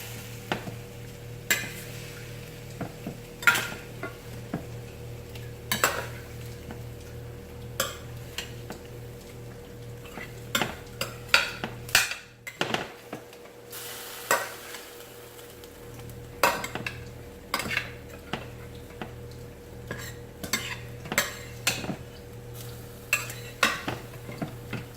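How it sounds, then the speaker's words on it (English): Spoon scraping and clinking against a pot while transferring pieces of Jamaican-style stewed pork, with scattered close metallic taps and stirring scrapes over a steady low hum, no talking. "I'm going to use a spoon and just transfer all the pieces into this"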